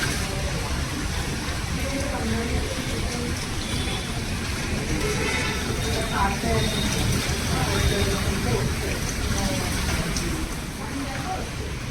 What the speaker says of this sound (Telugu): వాటర్ అయితే అసలు వస్తూనే ఉందండి కంటిన్యూ